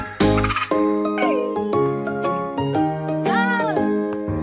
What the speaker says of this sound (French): La grenouille chante, chante sans s'arrêter.